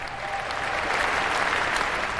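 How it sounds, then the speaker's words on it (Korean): Crowd applause at Donald Trump's presidential inauguration speech, a dense, steady wash of clapping that holds at the same level throughout without a break. "사람들이 아주 기쁘게 반응을 하면서 박수를 치고 있습니다."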